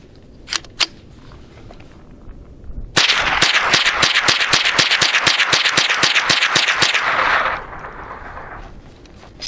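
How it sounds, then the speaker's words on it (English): An Adler RF224 rifle fires CCI Mini Mag rounds in a rapid string of about fifteen sharp, loud cracks at an even pace, preceded by a couple of faint clicks and followed by a fading ring of the shots. "this is shooting pretty good with CCI ammo right now"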